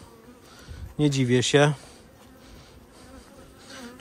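Honey bees buzzing around an opened hive, a loud close burst of droning buzz lasting under a second amid quieter background hum, with a person speaking briefly.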